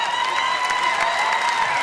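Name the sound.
crowd applauding beach volleyball players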